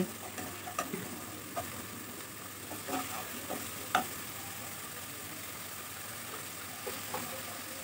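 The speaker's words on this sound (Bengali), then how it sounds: "এখন আদা রসুন আমি খুব ভালোভাবে কষিয়ে নেব" Ginger and garlic sautéing in a pan for a Bengali chhanar dalna, a steady soft sizzle with scattered light scraping and stirring clicks, close and moderately quiet with no talking.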